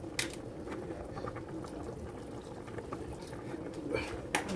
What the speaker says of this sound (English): Put some milk.